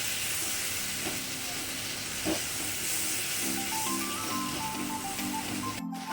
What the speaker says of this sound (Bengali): দই দিয়ে দিয়েছি তার জন্য আমি গ্যাসটি কমিয়ে দেবো দিয়ে কষাতে থাকবো